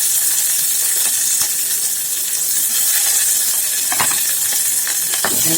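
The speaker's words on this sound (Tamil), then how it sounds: "இதிலே வந்து கட் பண்ணி வச்சுருக்க ஒரு வெங்காயம் கருவேப்பிலையை போட்டேன்" Sliced onion and curry leaves sizzling loudly in hot oil for a fenugreek sprout kulambu, a steady bright hiss with faint crackles and occasional stirring taps, no voices.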